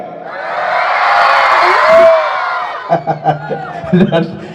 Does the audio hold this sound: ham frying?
no